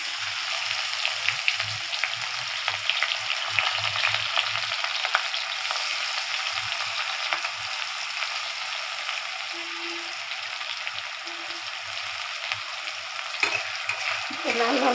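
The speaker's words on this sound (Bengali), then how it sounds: "দিয়ে দিলাম কুচানো পেঁয়াজ কাঁচা লঙ্কা" Chopped onion and green chilli fry in oil with cumin seeds and a dried red chilli, making a continuous close sizzle with occasional stirring scrapes and no talk.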